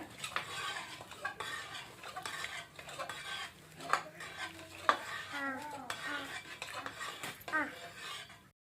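Mashed spinach and lentil curry for palak garagat is stirred in a pot, with wet scraping and occasional clinks of a spoon against metal, fairly quiet and close, with faint background voice sounds.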